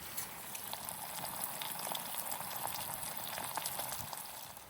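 Vegetables sautéing in butter on a BCB Fire Dragon camping stove, a steady close bubbling sizzle with fine crackling, faint and unbroken.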